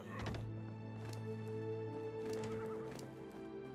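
A horse in the survival video game ARK whinnies in a loud, drawn-out neigh near the start, followed by softer snorts and clopping against a steady game backdrop.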